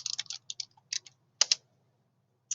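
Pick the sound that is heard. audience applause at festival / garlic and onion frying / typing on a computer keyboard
typing on a computer keyboard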